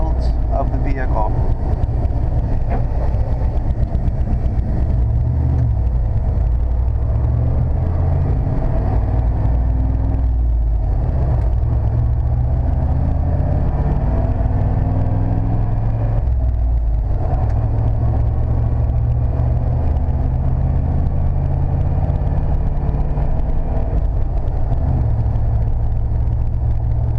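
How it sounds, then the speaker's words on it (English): A 1995 Chevrolet C/K 1500 4x4 pickup with a five-speed manual drives along, its engine rumbling steadily with road and wind noise as it moves through gear changes, while someone talks over it. "As I am shifting in between each gear, I do not feel any jumping or any hesitations."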